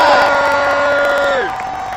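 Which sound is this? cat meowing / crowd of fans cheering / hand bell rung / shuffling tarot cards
crowd of fans cheering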